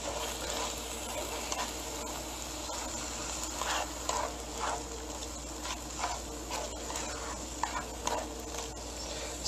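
Smoky chicken sizzles steadily in a pan over medium heat, a soft continuous crackle with occasional light stirring taps, fairly faint and close, with no talking.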